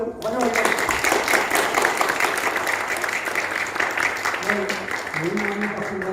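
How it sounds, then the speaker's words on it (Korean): A church congregation applauds in welcome as a steady wash of many hands clapping fills the hall, with a voice speaking over it near the start and end. "다시 한번 우리 박수로 환영합니다."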